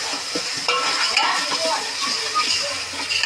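Onion frying and being stirred in a pan, with a steady sizzle and scraping stir strokes, plus occasional clinks of a utensil against the pan while people talk in the background.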